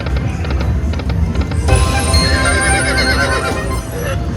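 A horse whinnies and neighs loudly over hoof clip-clops in the Lightning Link slot machine game, with electronic slot music and jingles running beneath the close, bright calls.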